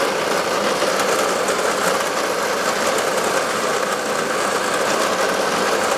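A lawn mower engine runs continuously while cutting perennial ryegrass in early fall in Canada, a loud, close, steady drone with no talk over it.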